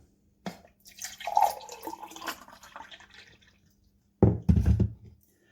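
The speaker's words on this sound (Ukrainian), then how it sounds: "та наливаємо воду" Water poured over herbal tea concentrate in a cup, an uneven splashing pour in two bursts separated by a pause, close and fairly soft, with no talk.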